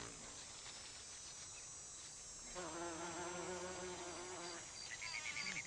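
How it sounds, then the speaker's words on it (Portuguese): A bumblebee buzzes at a bottle gentian flower. Its steady, close wing drone is nearby and gets louder and higher partway through as it works at the narrow bloom, with no voices. "Apenas os mamangais têm o poder muscular de abrir a boca da flor e forçar sua entrada para pegar o néctar."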